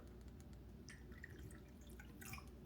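Hot water poured from an Elite Gourmet EKT8717 1.7-litre electric kettle with temperature control, a quiet steady liquid stream with small splashy drips over a few seconds.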